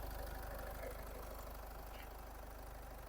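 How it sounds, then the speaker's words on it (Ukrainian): A 2012 Peugeot 4007 diesel engine idles steadily at a low, even rumble with a faint rhythmic knock, unchanging throughout and fairly quiet. "Двигун працює рівненько."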